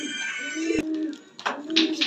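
A blue barless Strasser fancy pigeon in a loft gives brief, throaty coos, with a sharp click partway through and another short cooing phrase after a pause.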